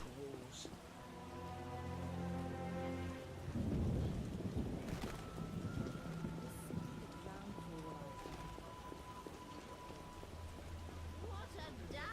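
Heavy rain pours steadily in The Witcher, with a deep rumble of thunder swelling in the middle, while game music and voices carry over the downpour.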